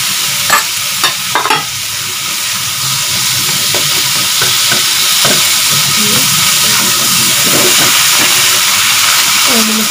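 Onion tossed into a pan of tomatoes and egg being stir-fried, a loud, continuous close sizzle and hiss, with a few clattering utensil knocks near the start.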